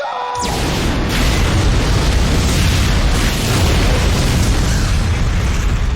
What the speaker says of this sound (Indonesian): secara otomatis komputer meledakkan ruangan tersebut sebagai tindakan dekontaminasi